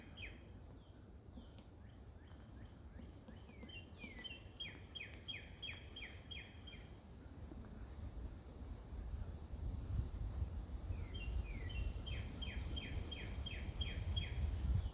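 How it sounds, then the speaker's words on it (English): Rapid high-pitched tapping bursts come from a distant woodpecker on the Appalachian Trail, two drumming-like runs over steady wind and outdoor rumble. "I don't know if you guys can hear the woodpecker."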